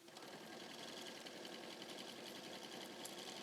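A sewing machine stitches quilt pieces with a steady, even whir that runs unbroken through the whole stretch at fairly low volume, alone with no talk.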